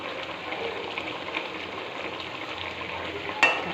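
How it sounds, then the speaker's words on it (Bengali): Pabda fish curry bubbling in a pan, a steady close hiss of simmering and sizzling that runs without a break, with a brief clatter near the end. "টপক টপক করে ফুটছে"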